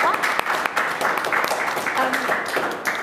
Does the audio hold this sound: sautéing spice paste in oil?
no